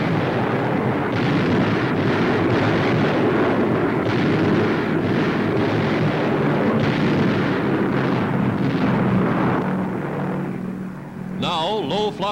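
Bombing raid explosions on Japanese gun batteries at Nubia and Hansa Bay in 1943, a dense continuous roar of blasts and rumbling fire throughout, loud and sustained, with a faint whistling tone near the end.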